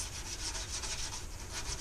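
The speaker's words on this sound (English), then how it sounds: "This paint is very strong. It doesn't scratch by this metallic scrubber." A metallic scrubber rubs toothpaste over a painted surface in quick back-and-forth strokes, a steady close scratchy rasp with faint rhythmic pulses and no voices.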